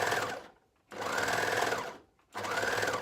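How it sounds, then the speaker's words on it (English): A sewing machine stitching binding onto a garment neckline, running in two steady whirring bursts separated by a short pause, close and clear with no talk. "I've got both my hands free to sew the binding"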